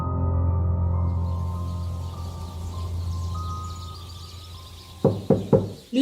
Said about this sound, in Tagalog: marinig ko ang 3 sunod-sunod na katok